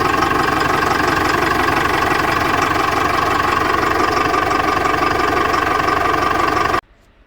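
A Tata 1109 truck's diesel engine idles with its cooling fan running, a loud, steady, close-up drone with constant vibration that cuts off abruptly just before the end.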